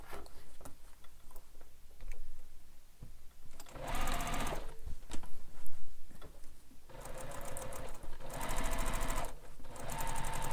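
A sewing machine stitches the side edges of a handbag in bursts of rapid, steady whirring, stopping and restarting several times, close and alone.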